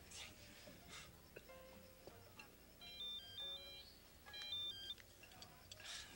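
A mobile phone ringtone chirps in short repeated electronic bursts over a quiet room, fairly faint, with stray movement noises and no talk.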